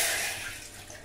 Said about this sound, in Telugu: పరమాన్నం కోసం ఈ కడిగి పెట్టిన రైస్ని స్టవ్ మీద పెట్టుకున్న గిన్నెలోకి అయితే మార్చుకోవాలి